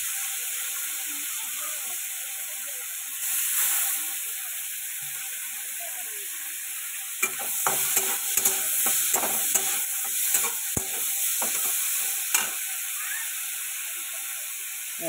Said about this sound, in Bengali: এবার দিচ্ছি চিংড়ি মাছটা। চিংড়ি মাছটা একবারে ভেজে তুলে নেবো।